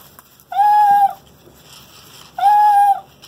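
A cat gives two short, bark-like calls, close and fairly loud, with a brief pause between them and no talking.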